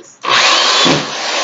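A power drill drives a screw into a floor during a floor repair: one loud, close burst of whirring and grinding that runs for about a second with no talking.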